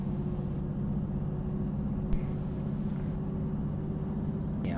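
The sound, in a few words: semi truck engine pulling hard in gear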